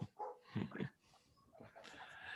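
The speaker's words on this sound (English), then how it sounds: "We love the dogs." A few short, close dog barks and yips sound in quick succession, then fade into quieter background noise.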